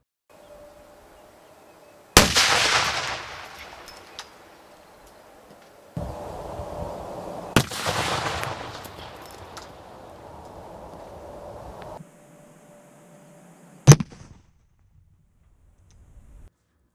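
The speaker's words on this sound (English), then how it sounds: "5 wraps of Detcord has a nice little explosion to it" Several sharp explosive bangs from detonating cord wrapped around washers, each a sudden loud crack with a roaring tail, separated by quieter stretches, the last one brief and abrupt.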